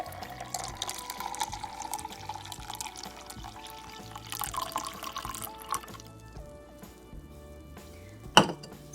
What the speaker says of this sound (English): Now let's put our juice in our glass.